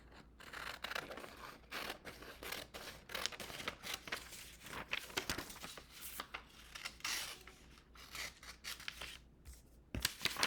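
Scissors snip and cut out a sheet of paper with continuous quiet rustling, scraping snips at close range and one sharper clack near the end, with no talking.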